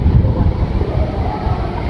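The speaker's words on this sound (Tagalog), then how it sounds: "Ay, lakas ng hangin, Kamalangga, diba?" Strong gusty wind buffeting the microphone during stormy weather, a loud low rumbling roar that surges and dips without speech.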